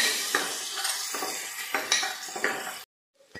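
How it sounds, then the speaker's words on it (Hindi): Finely chopped large onion fries in hot oil for pav bhaji, giving a close, steady sizzle. It is broken by several scraping stirs of a spoon in the pan, then cuts off to near silence with one last faint clink. "1 मोठा आकाराचा कांदा बारीक कापलेला। हे छान मी तेलामध्ये लालसर तपकिरी रंगाचा होऊ देते"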